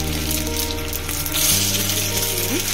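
Spices for tempering stuffed rawa idli sizzle and crackle as they hit hot oil in a pan, a steady close frying hiss with a faint hum beneath.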